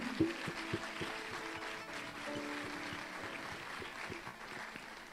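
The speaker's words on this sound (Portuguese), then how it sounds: "Vamos aplaudir a Jesus pela vida dele" A church congregation applauds before a pastor's sermon, a soft, continuous spread of clapping heard from a distance, with a few low sustained musical tones and scattered thumps underneath.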